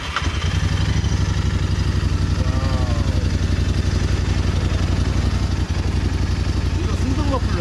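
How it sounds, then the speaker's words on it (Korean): Royal Enfield twin-cylinder motorcycle with the stock muffler idling nearby, a loud, steady, low thumping exhaust beat with mechanical clatter, and brief voices in the background. "요거 배기 사운드 한번 들어볼 수 있을까?"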